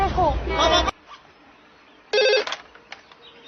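A telephone rings in short electronic bursts, one near the start and another after a pause, with a quiet room between the rings.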